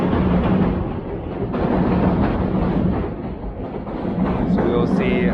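City train passing in the distance as a continuous low rumble with faint clatter, steady throughout, with a brief high squeal near the end.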